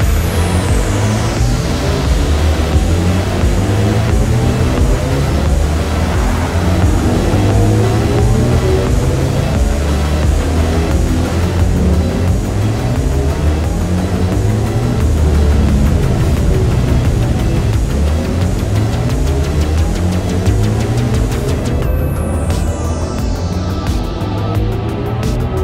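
A BMW i4 M50 electric car accelerating hard in sport mode produces a continuous rising drive whine layered over dense road and tyre roar, loud and sustained throughout, with no speech.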